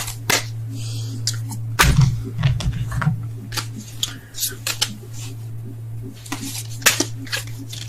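Tarot cards are handled and shuffled in scattered, sharp papery flicks and one short rustling burst, close by and fairly quiet over a constant low electrical hum.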